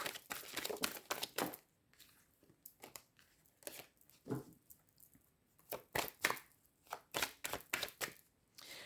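Oracle cards are shuffled and cut by hand in close, crisp bursts of riffling and snapping, quick clusters of papery flicks broken by short pauses, with no talking.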